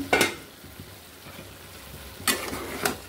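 Cauliflower and potato bhaji frying on a stove, with a soft, steady sizzle punctuated by a few sharp scraping stirs at the start and near the end, no voices.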